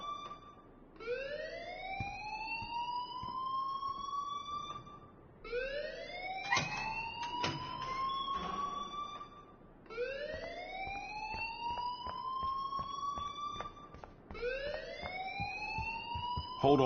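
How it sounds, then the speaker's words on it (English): Game alarm blaring in a repeating pattern, each cycle a rising siren-like sweep holding a steady high tone, four cycles back to back at fairly constant loudness with no talk. "please turn off that alarm since that's your job"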